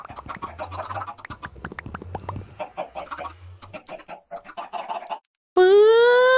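Chickens on a chicken farm in the Minecraft video game cluck in short, rapid bursts for several seconds, fairly close, followed by a brief pause and then a loud, sustained crowing-like call at the end.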